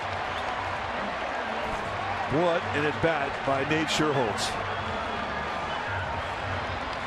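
Baseball stadium crowd, Oakland at San Francisco in May 2011, swelling into a loud roar after a home run, rising and falling for a couple of seconds beneath a commentator's voice over steady background murmur.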